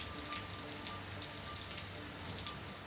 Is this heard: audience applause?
no